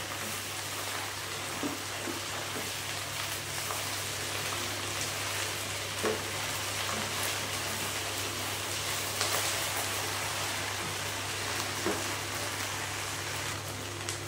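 Ground ginger, garlic and green chilli paste sizzles in a pan as it is fried and stirred, a constant rain-like hiss with a low hum and occasional faint knocks.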